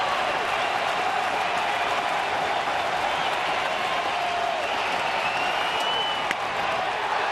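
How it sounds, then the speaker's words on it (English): Baseball crowd at Kauffman Stadium for the Royals against the Angels roars in a dense, unbroken wall of cheering and clapping with the bases loaded, loud and steady throughout with no voice on top. "the fans are trying to egg him on here"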